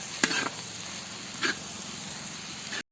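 Onions with curry leaves sizzle in a pan for Kerala-style chicken curry, a steady close frying hiss broken by a few sharp scraping stirs of a spoon against the pan, with no talking.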